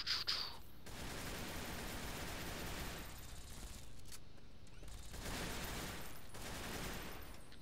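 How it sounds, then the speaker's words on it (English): Rapid automatic gunfire from a weapon in a Fallout 3 mod, a dense, loud rattle of shots that runs almost the whole time, with brief dips in intensity and no talk. "Oh wait, I forgot this is not a semi-automatic weapon."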